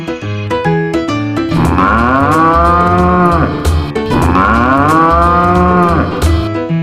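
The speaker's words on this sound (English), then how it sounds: "It's a cow." Two long, drawn-out cow moos, loud and close, rise and fall over a light, plinking music track.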